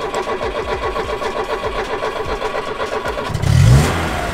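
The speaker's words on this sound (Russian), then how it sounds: "Так, выжимаем его медленно, пока не затрясется, и газуем." Engine of a manual car revving steadily as the driver eases the clutch to pull away, a continuous close mid-pitched drone that swells into a louder rev near the end.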